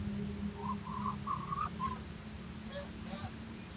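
Geese and rare-colour muscovy ducks in a backyard breeding pen give a short run of nasal honks, moderately close over a low steady background hum, followed by a couple of fainter calls.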